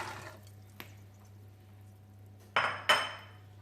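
Peas and then artichokes drop into a cooking pot of sauce, with a faint clink early on and two louder clattering splashes of vegetables and metal near the end, over a low steady hum.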